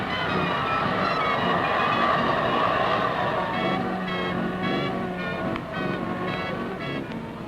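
An old Amsterdam tram slowing to a halt at a stop, a steady rumbling rail roar with squealing tonal brake whine rising toward the end, continuous and fairly loud.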